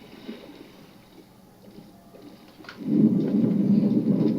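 Thunder from a storm in a Minecraft modpack game begins as quiet background rumble and then swells into a loud, sustained low roll over the final second and a half.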